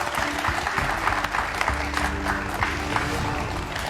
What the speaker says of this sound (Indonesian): Tepuk tangan dulu buat Akila